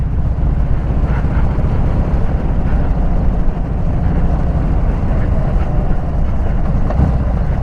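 Harley-Davidson Sport Glide motorcycle engine labouring up the steep, winding Hardknott Pass, a loud continuous low rumble with steady revs and wind buffeting throughout, no talking.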